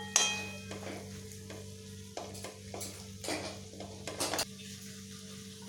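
A spoon stirs boiled chickpeas and mashed potatoes in a pan for an aloo chole curry, giving repeated scraping strokes over a low sizzle with no talk.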